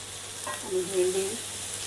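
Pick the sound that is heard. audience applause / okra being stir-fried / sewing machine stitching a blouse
okra being stir-fried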